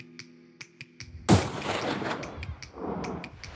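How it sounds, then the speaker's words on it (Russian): A single loud carbine rifle shot fired from a bipod while hunting on Mallorca: one sharp crack followed by a rolling echo that fades over a couple of seconds. "Нужно только прочно установить карабин на сошках и выждать удобный момент для выстрела."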